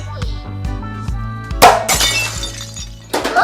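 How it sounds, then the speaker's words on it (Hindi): A television breaking at home, glass shattering with a bright crash partway through and a second smaller burst of tinkling glass near the end, loud and close over a background of music. "कुछ बड़ा ही टूटा है"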